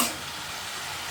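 Spiced vegetables being stirred in a hot pan give a brief, steady sizzle with soft scraping, close and continuous.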